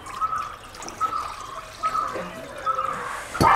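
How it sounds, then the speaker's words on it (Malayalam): Water poured into a pot on a lit gas stove, a short run of trickling and splashing pulses, close by and fairly faint, ending in a louder splash, with no talking. "അടുപ്പ് കത്തിച്ച് ഇതുപോലെ പാത്രം വെച്ച് കുറച്ച് വെള്ളം ഇതിനകത്ത് ഒഴിക്കുക."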